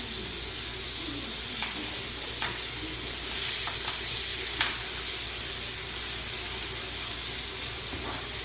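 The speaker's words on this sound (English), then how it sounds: "We're going to go salt, pepper in the pan. Let it sear." Meat searing in a hot pan seasoned with salt and pepper, a steady close sizzle and hiss with a few sharper pops and crackles scattered through.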